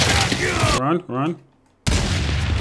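Gunfire from a ranked free-for-all match in Gears 5 comes in loud bursts, broken by a short lull and then a sudden resumption of dense firing.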